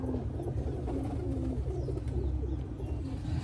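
A slim, lightweight female pigeon at a pigeon sale in Tarn Taran, giving low, soft coos over a steady background murmur.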